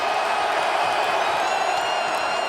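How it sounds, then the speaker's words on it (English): A stadium crowd at an NFL playoff game roars for quarterback Colin Kaepernick, a steady, broad wash of cheering and whoops that holds level for a couple of seconds. "Crowd roaring here at Colin Kaepernick."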